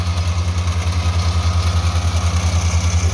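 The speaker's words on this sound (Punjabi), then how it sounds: "ਇਸ ਦੀ ਤੁਸੀਂ ਜਨਾਬ ਵੇਖ ਲਈ ਹੈ ਪਰਫਾਰਮੈਂਸ, ਜਾਪਾਨੀ ਮਸ਼ੀਨ ਹੈ ਜਨਾਬ AR60" A Japanese AR60 farm machine engine idles steadily up close, a low, evenly pulsing throb with constant vibration and no voices.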